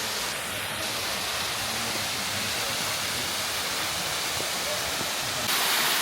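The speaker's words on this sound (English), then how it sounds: "we made it to the waterfall." A waterfall on a Tennessee hiking trail roars as a loud, unbroken rush of falling water, close by and steady throughout, with no other sounds standing out.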